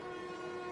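A runaway train in the Marvel's Spider-Man 2 video game gives off a steady, loud rumble with a sustained horn-like drone. It runs unbroken through a short stretch with no voices.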